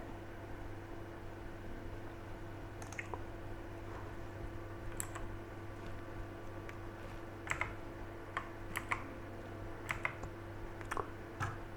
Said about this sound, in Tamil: மணத்தக்காளி வத்தல் அப்படின்னு நீங்கள் டைப் பண்ணலாம்